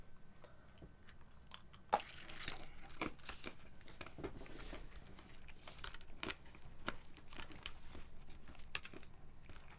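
Someone eats nuts at close range during a keyboard keycap rebuild, giving irregular crunchy chewing and crisp bites with scattered clicks and rustling, and no talking.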